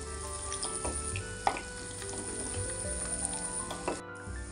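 Pieces of fish fry in hot oil, giving a steady close sizzle and crackle with a few sharper pops and light scraping clicks throughout.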